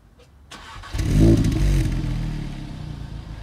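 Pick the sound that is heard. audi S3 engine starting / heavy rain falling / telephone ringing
audi S3 engine starting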